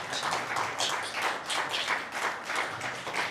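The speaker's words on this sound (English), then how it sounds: "Can you give a big hand clap for the presenters?" An audience at a panel discussion on Pan-Africanism claps for the presenters, a sustained, fairly even patter of many hands, moderately loud and unbroken, with no speech over it.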